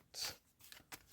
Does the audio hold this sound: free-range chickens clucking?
no